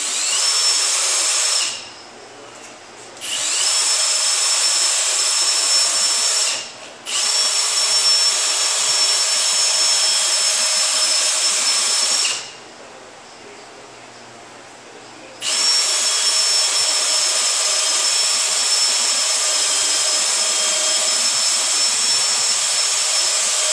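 A power tool spins a larger wire brush wheel with longer bristles against a surface, whining loudly and continuously in long runs broken by a few short pauses where the tone drops.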